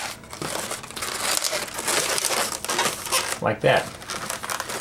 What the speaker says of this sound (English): I'm going to take those 2 ends and tie them together to make sure that it stays